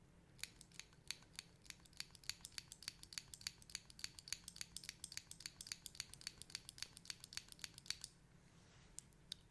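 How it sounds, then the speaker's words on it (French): Rapid sharp clicks repeat in a quick, fairly regular run for about eight seconds, close and crisp against a quiet background, then stop. "Cette fois-ci ça sera des clics rapides."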